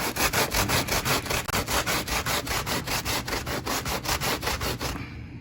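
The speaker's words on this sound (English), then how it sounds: "And here again, my sponge sanding blocks." Dollar-store sponge sanding block rubbed briskly back and forth over Kato N-scale model railroad track and downtown Sacramento scenery, a steady run of about twenty rhythmic rasping strokes, close and loud, with no talking.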